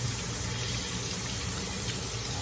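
Cooked noodles rinsed under cold water from a kitchen tap, a steady close hiss and splash of running water continuing without pause and with no talking.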